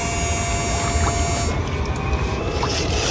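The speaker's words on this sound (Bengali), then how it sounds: "এটা লাগানোর সাথে সাথে মেশিন অন হয়েছে দেখেন" An electric fishing machine, wired to a battery, hums steadily with a continuous close electrical tone and a high whine that cuts off partway, outdoors by water.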